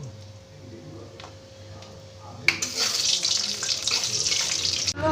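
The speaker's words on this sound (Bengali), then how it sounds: "কয়েকটা বড়ি ভেজে নেব" Lentil dumplings (bori) drop into hot oil and a loud, steady frying sizzle starts partway through and holds close up until the end.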